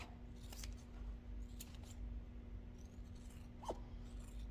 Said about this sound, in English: I'm going to trim my lining down. Trim my exterior just a tad.